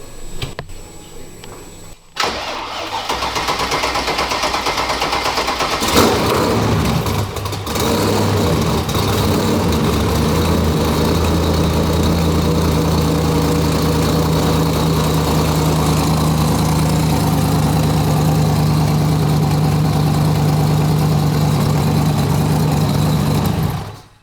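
BMW E90 turbo engine idling with exhaust venting through the wastegate, a loud, close, steady low drone that starts after a brief clatter and holds evenly, with no talk over it.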